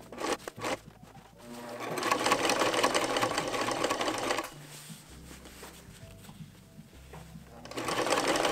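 A sewing machine stitches a duffel bag in bursts of rapid mechanical chatter, starting and stopping several times with quieter pauses between runs.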